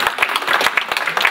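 An audience claps loudly together, a dense patter of many hands with sharper individual claps rising out of the crowd for the whole moment, close and continuous.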